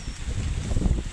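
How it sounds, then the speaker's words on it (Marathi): Wind blows steadily outdoors with a low, rumbling buffet across the microphone, gusting slightly stronger toward the end, with no talk. "फायनलीच वारं सुटलं"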